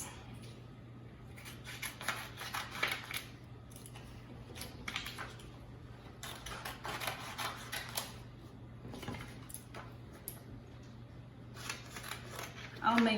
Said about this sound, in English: I'll just start cutting and let's see how many pieces my puzzle has.